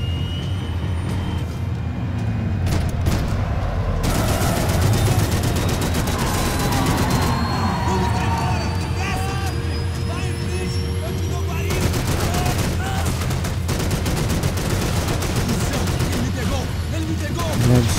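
Sustained gunfire from the shooter game Max Payne 3, loud and continuous, with overlapping shots layered over a steady rumble of vehicle-like engine noise and no clear voices.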